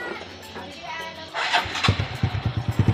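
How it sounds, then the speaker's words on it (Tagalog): A Honda RS 125 motorcycle engine fires up after repair work, catching partway through and settling into a close, loud, rapid, uneven put-put idle. "Buhay makina."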